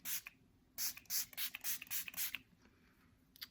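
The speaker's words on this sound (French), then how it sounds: "Le setting spray." A makeup setting spray mist fires in a quick run of about seven short, crisp hissing puffs, with one more lone puff after a pause, close by in a quiet room.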